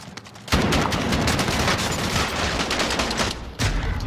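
Rapid bursts of gunfire from the Call of Duty: Modern Warfare shooter, loud and dense, with a sustained volley running most of the clip and a fresh burst near the end after a brief lull.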